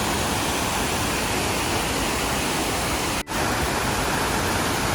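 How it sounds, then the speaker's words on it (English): A waterfall on the Long Trail in Vermont pours into a pool, a loud, steady broadband roar filling the whole stretch, with one brief dip partway through. "Waterfall, pool."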